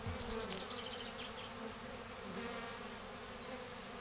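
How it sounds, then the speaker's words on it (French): Steady, dense buzzing of many black honeybees close by at a Layens hive, continuous throughout with no voices. "tu as des abeilles noires"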